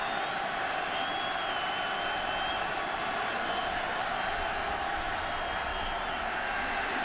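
Crowd noise fills the stadium at a 2011 Raiders at Bills football game as a dense, constant roar, with a commentator's voice faintly over it.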